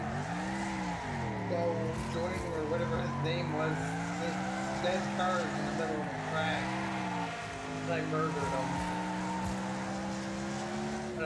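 Engines roar continuously in a demolition derby video game, with rising and falling revs and scattered tire squeals and crash impacts, all under steady overlapping chatter from players.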